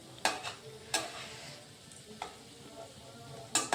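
Lalmohan sweets frying in hot oil crackle softly while a spoon turns them gently, giving several distinct scraping stirs over a low sizzle.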